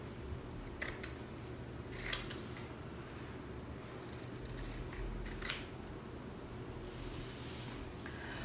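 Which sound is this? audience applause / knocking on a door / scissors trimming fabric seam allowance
scissors trimming fabric seam allowance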